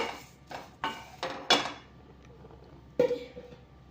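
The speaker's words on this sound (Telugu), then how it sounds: "ఇప్పుడు ఇందులోకి మనం వేప కూడా వేసుకొని కొంచెం ఫ్రై చేసుకుందాము. ఇలా మిక్స్ చేసుకోవాలి బాగా." A spoon knocks and scrapes against a pan while neem flowers and sesame seeds are stirred and fried, giving about half a dozen sharp, fairly close clinks spaced irregularly over a quiet background.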